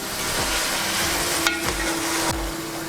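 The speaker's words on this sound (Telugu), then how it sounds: "ఉల్లిపాయలు బాగా వేగినాయి" Onions frying with masala in a pan for chicken curry, a steady broadband sizzle with a few low thuds of stirring, close and continuous with no talk.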